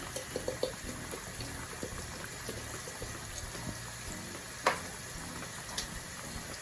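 Meat browns in a pan with a steady low sizzle and frying crackle while potatoes boil nearby, with a few light clicks and one brief louder clatter, all close and without talk.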